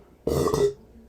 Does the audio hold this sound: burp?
yes